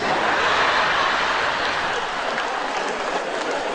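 A comedy night audience claps in a loud, continuous wash of applause that holds steady throughout with no voices over it.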